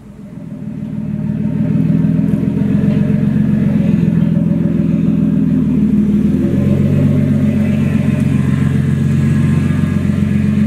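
A loud, steady exhaust drone from an R32 Skyline with a deep rumble, rising in the first two seconds and then holding at a constant, close-up idle-to-rev level.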